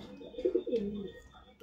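Close, soft cooing from pigeons in a pair kept for sale, a few low rolling calls in a row with faint background noise around them.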